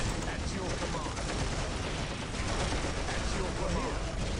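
Artillery and gunfire from Dawn of War: Ultimate Apocalypse, Imperial Guard against Orks, form a dense, continuous roar of overlapping bursts and booms at high loudness, with a voice faintly mixed in.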